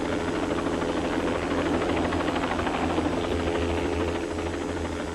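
Steady, loud whirring roar of a helicopter with low rotor thumping, continuous and unchanging throughout, no voices.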